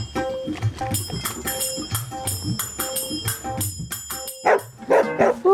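A mobile phone alarm tone imitating a barking dog plays loudly and nearby, a rapid run of electronic yaps and barks over a steady ringing tone, with a brief voice near the end.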